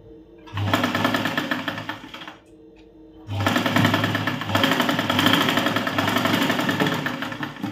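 A sewing machine stitching tucks into a blouse runs in two loud, fast-rattling bursts with a short pause between, close and dominant.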